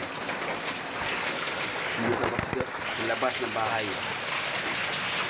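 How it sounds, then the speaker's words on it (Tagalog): Heavy typhoon rain hisses steadily, a dense wash of sound, while a person speaks briefly over it. "Ang lakas ng ulan."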